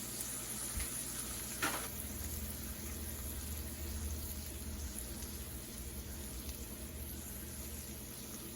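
Bacon slices fry in a pan, producing a steady, faint sizzle that runs unbroken throughout with a couple of small clicks near the start.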